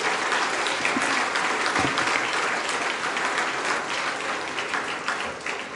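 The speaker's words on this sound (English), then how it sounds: "Ladies and gentlemen, please welcome them with a round of applause." A large audience applauds steadily to welcome dignitaries at the inaugural session of a women's convention in India, a dense, sustained wash of clapping that holds throughout and fades slightly at the end.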